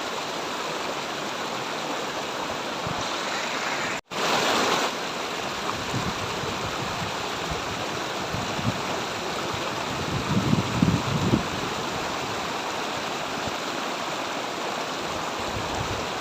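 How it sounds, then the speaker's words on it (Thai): A mountain stream flows down past roadside sugarcane fields, a constant, full rushing and splashing that fills the whole stretch, with no voices. "ก็เป็นน้ำไหลมาจากภูเขานะครับ"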